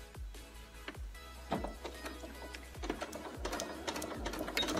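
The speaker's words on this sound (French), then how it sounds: "Et nous allons coudre jusqu'au le pied, il s'arrête en se coinçant contre le curseur." A domestic sewing machine stitching along a zipper toward the presser foot: a steady rapid mechanical whir with rhythmic thumps, close and moderately quiet, with no speech.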